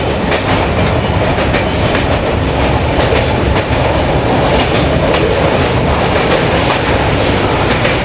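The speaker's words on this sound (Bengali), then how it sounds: "ট্রেন কিন্তু আমাদের ছেড়ে দিল দক্ষিণেশ্বর থেকে" A Humsafar Express train rolling out of Dakshineswar after a one-minute halt, with a loud, steady rumble and rhythmic clickety-clack of wheels heard continuously from inside the coach.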